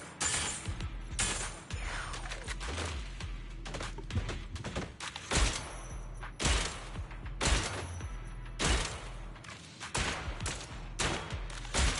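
Rapid gunfire in the Zenless Zone Zero video game rattles in dense bursts over a constant loud game soundscape of booms and effects, continuous and busy throughout.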